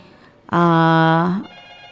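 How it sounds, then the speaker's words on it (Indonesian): Telephone on a morning call-in radio talk show rings once with a loud, steady electronic tone lasting just under a second before cutting off. "Oke, langsung aja kita terima telepon."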